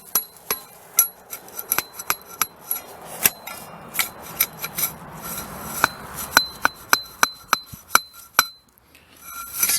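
A digging tool strikes and scrapes against a buried glass bottle in an old privy at a house over a century old, sharp clinks and taps repeating irregularly through gritty scraping of soil.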